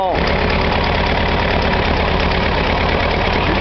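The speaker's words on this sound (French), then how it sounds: "et là on démarre le moteur" A small engine idles steadily just after being started, a continuous loud, even rumble with a fine rapid knock running unbroken throughout.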